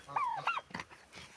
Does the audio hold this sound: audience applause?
no